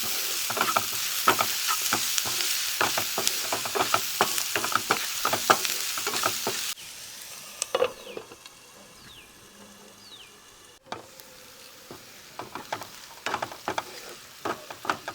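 Sliced onions sizzling in a pan while being stirred, with loud frying hiss and clattering spoon scrapes for several seconds, then a quieter, muffled simmer once covered, and stirring clicks resume near the end.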